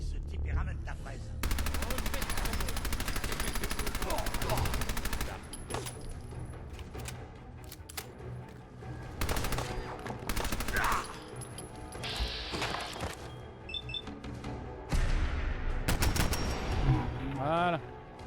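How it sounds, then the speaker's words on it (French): Machine gun fire in the video game Fallout 4: long rapid automatic bursts, loud and close, separated by brief pauses with mechanical clanks and other game sounds. "Non mais on va leur mitrailler dedans."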